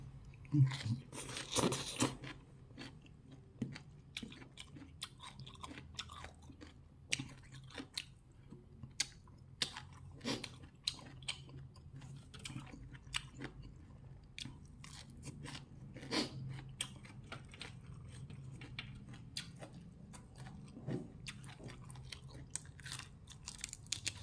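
Close, steady chewing and crunching of fresh raw vegetables during a spicy-sour meal, with irregular wet bites and crunches continuing for over twenty seconds.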